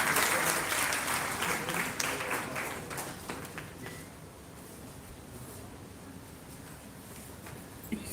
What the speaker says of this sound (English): Can we please have a huge round of applause for all of them?